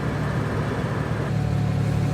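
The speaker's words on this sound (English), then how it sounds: "and we're gonna start the car." A BMW E92 engine starts and settles into a steady, close idle rumble, its low hum firming up about halfway through with no talking over it.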